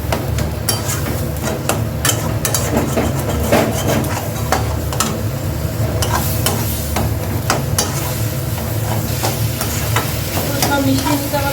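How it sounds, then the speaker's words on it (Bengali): Chicken being stirred in a pan for a chicken fried roll, with a steady, loud sizzle of frying under rapid, repeated scraping and tapping of the spoon against the pan throughout. "এই চিকেনটা নাড়তে থাকতে হবে এইভাবে।"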